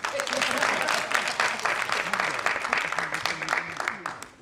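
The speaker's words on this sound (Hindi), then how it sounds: "आप लोगों को ताली बजा के स्वागत करना चाहिए" An audience claps in welcome at a panel discussion during a conclave, dense sustained applause from a crowd with scattered cheers and voices mixed underneath, tapering off at the end.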